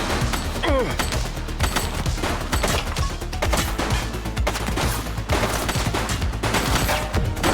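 Rapid bursts of gunfire in The Precinct police video game, dense overlapping shots and sharp cracks firing continuously at close range, loud throughout.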